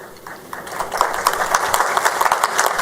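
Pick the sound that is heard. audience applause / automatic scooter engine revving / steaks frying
audience applause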